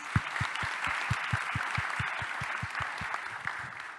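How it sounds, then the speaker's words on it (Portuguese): A conference audience applauds steadily, dense clapping filling the space at an even level throughout, with no voices over it. "Gostaria de pedir uma salva de palmas para os nossos patrocinadores."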